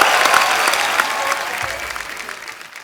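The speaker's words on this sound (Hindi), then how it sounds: "मेरे दोस्त के लिए जोरदार तालियां पहले तो।" Dense, steady applause from a comedy show studio audience, many hands clapping at once for a few seconds, gradually easing off toward the end.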